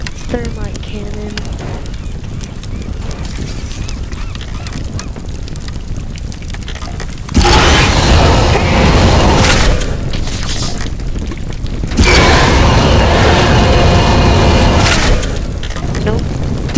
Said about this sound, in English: Then we hit him with the thermite cannon.